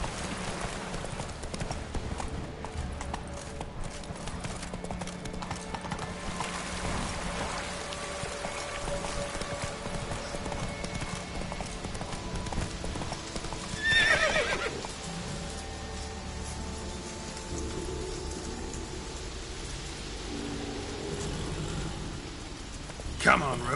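Roach, the horse in The Witcher 3: Wild Hunt, trotting with rhythmic hoof clip-clops under rain and ambient game sound, with a brief whinny midway; a voice speaks to the horse.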